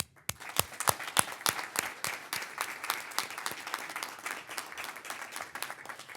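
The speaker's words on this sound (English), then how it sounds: "Our second finalist, a round of applause, please" Applause at an arts and business awards ceremony, a few distinct nearby claps ringing out over a thinner spread of hands, building quickly and then keeping up a steady, moderately quiet patter.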